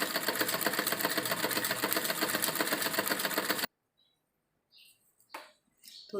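A sewing machine runs steadily while stitching a salwar hem, with a close, loud, continuous rapid clatter for several seconds before it stops abruptly. Faint scattered sounds follow.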